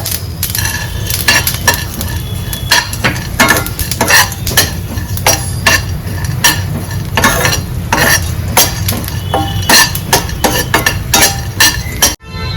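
Coriander seeds, cumin, sesame and split gram dry roasting in a pan for a dried bombil curry, with loud, busy clinks and scrapes of a spoon stirring against metal over a low rumble.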